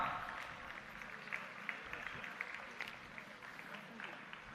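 An audience at a university inauguration ceremony in Delhi claps. The applause is faint and distant, a thin patter of scattered claps over a steady hum of room noise.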